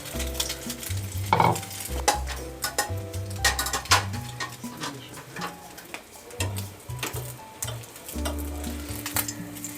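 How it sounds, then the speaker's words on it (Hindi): French toast frying in a pan, with a steady sizzle and occasional stirring and utensil clinks under a background musical tone. "तो ये इस तरह से ही हमने फ्राई करने हैं।"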